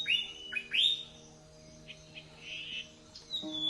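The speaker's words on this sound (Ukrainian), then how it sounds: "діти, це голоси птахів." Bright, high bird chirps and whistled calls in a spring forest, several in quick succession, then scattered tweets over a faint steady hum; fairly close and clear.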